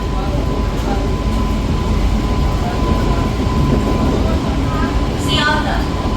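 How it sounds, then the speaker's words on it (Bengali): A passenger train bound for Sealdah pulls away from a platform, with a loud, continuous rumble and rattle of carriages and a brief high wheel squeal near the end. "শিয়ালদা পর্যন্ত যাওয়ার এই ট্রেনটি পরবর্তী স্টেশন স্টেশন ছাড়ার প্ল্যাটফর্ম ছাড়তে ছাড়তে ট্রেনের স্পিড"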